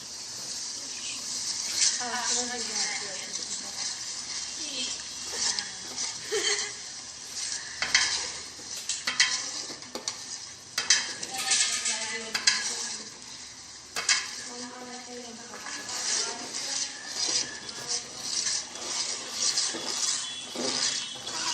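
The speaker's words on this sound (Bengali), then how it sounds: "সুন্দর করে পেঁয়াজের সাথে মশলাগুলোকে মিক্স করতে থাকি" Chopped and ground onion, ginger-garlic paste and spices are stirred in a pan for chicken roast, with a soft sizzle under repeated scraping strokes of a spatula coming in uneven bursts.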